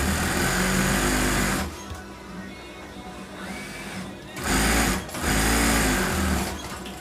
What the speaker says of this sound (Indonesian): Lalu tinggal dijahit aja seperti ini